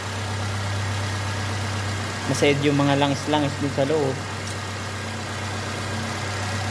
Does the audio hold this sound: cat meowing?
no